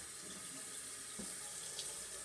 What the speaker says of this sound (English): Rinse this off and see what it looks like.